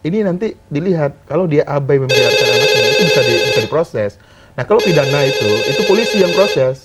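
A telephone rings loudly in a television studio during a talk show discussion, with two long bursts of ringing heard over and between a man's continuing speech.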